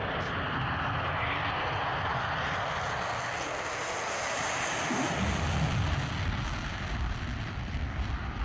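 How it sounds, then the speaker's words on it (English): An F-35 fighter jet taking off, a loud sustained roar that swells and deepens midway as the engine power builds, heard from a distance with no voices. "The F-35, proving that fuel economy is for peasants and quiet takeoffs are a myth."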